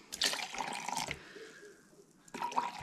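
Lukewarm water poured into bread dough for fluffy buns, a close splashing trickle in two short bursts with a quiet pause between, no talk over it.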